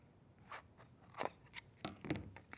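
Scissors snip through yarn while a tassel is made, a series of quiet, crisp cuts in an irregular rhythm, close by with no talking.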